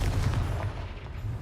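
A Confringo spell blast in Hogwarts Legacy, a short, punchy burst with a booming low end that decays over about a second, heard alone.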